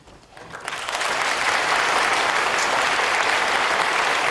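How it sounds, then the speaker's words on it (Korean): Students at a school ceremony for the April 19 Revolution anniversary give standing alumni a large round of applause, rising quickly from a few claps into dense, sustained clapping from a big crowd that stays loud and steady. "재학생 여러분들은 아주 큰 박수로 감사 인사를 해주시기 바랍니다"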